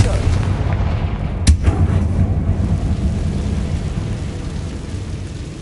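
In Hogwarts Legacy on PS5, the Confringo fire spell detonates in a single sharp explosive crack, followed by a rumbling tail over a constant wash of background game noise.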